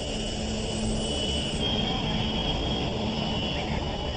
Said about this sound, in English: We can accelerate up to virtually to takeoff speed, and then if we decide to stop, why, we could stop the airplane.